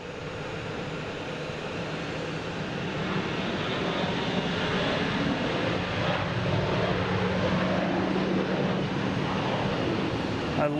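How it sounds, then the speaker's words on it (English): A Virgin Atlantic airliner arriving from London Heathrow roars past on landing, a loud, continuous broadband engine rumble that swells slightly as it passes close by. "I love this runway configuration because the plane just gets the roar when it goes by me here."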